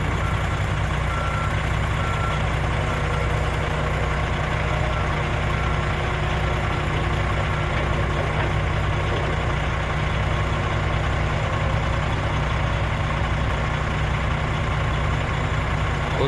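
A rock truck idles with a heavy engine rumble while its reversing alarm beeps repeatedly, loud and close, at a site loading contaminated soil.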